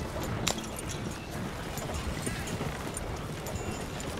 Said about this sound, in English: Just pull the coach into the barn there. Slow down, you'll burn out the horses.